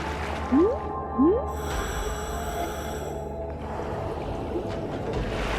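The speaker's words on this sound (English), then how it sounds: "That's a Commerson's dolphin." A Commerson's dolphin in the underwater game Endless Ocean Luminous gives two short rising whistle chirps in quick succession over a low watery rumble, followed by a faint steady tone.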